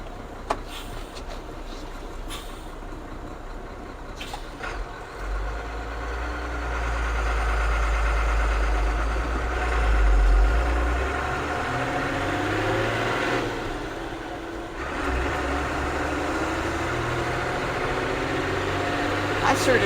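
An old truck engine idles with a steady low rumble that swells partway through as revs rise briefly, then settles back; faint voices are present under the engine.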